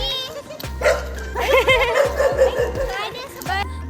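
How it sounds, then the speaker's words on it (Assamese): A pet dog named Jigi barks in welcome at home, giving a run of short, loud, close barks and yips spaced through the moment, with people talking around it. "ভুকিব কোৱা।"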